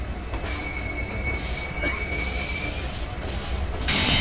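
Jammu Mail express train pulling out of a station platform, with steady metallic wheel squeal running throughout over a continuous rolling rumble, growing louder near the end.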